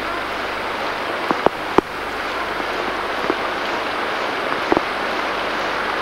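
Steady rain hisses during a flood in Denford as a broad, constant wash of noise, with a few sharp taps and knocks standing out now and then.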